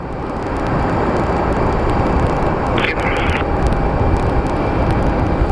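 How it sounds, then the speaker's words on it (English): A passenger airplane taxis out at Phoenix Sky Harbor International Airport, a loud, broad engine roar that holds steady with wind-like rumble, plus a brief higher whine partway through. "the plane I was pointing to earlier is going to actually taxi out right now"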